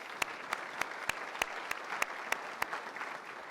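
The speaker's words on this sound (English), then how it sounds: "Let's give a round of applause for all of them as well." Applause from a conference audience thanking sponsors at a healthcare business event, sounding faint and distant, with sharp, evenly spaced claps standing out over a soft wash of hands.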